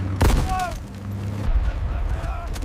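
Heavy gunfire and artillery booms against a defensive line in 1942 desert fighting, a loud blast early followed by continuous rumbling fire, with faint whistling tones overhead.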